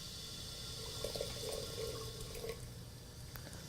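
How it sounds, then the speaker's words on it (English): Fresh water poured into a boiling kettle during a Japanese tea ceremony in a New York City tea house, a steady, soft splashing pour over a low simmering rumble, fairly close and unbroken for several seconds. "end of the tea ceremony, I will add fresh water"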